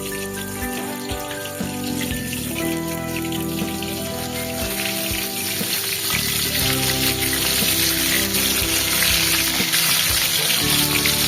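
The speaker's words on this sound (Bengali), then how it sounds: "বেশ কড়া করে লাল লাল করে মাছগুলো একটু ভেজে নিতে হবে" Pieces of rohu fish fry hard in hot oil, a dense crackling sizzle that runs loud and continuous throughout, with a steady hum underneath.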